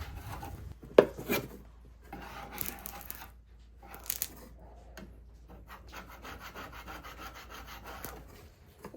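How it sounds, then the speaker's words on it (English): A scraper rasps over a flat oak buffet top, working off stuck plastic wrap in a series of short, close, dry scraping strokes, with a steadier rubbing passage near the end; no voices. "the plastic wrap just didn't peel off very well, so I'm using my scraper to get off"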